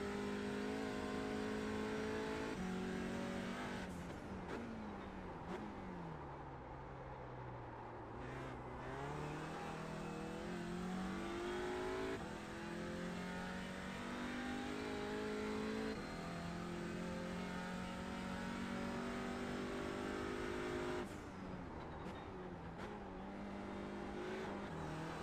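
Racing car engine droning loud and steady from inside the car, with pitch climbing and falling through gear changes and revs, continuous throughout.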